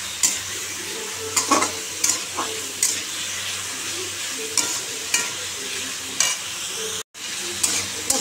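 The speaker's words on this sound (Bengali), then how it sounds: "ভাজা করছি এখন," Green chillies and nigella seeds frying in oil in a home kitchen pan, a close, continuous sizzle broken by repeated scraping stirs of a spatula and brief clatters.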